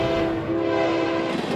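A loud, sustained train horn blares with a steady tonal chord over rumbling rail noise, close and continuous.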